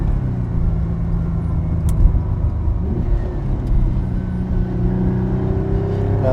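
A 1974 Ferrari 246 GTS Dino cruises along a road, its engine a steady low rumble from inside the car with slight pitch shifts as it pulls, continuous and fairly loud with no talk.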